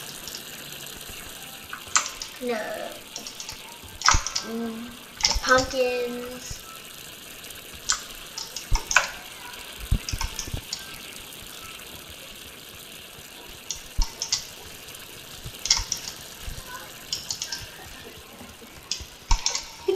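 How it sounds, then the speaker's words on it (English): A water tap running in Untitled Goose Game, a steady soft rush of flowing water heard throughout, with scattered clicks and game sounds over it and someone talking briefly. "turn the water on."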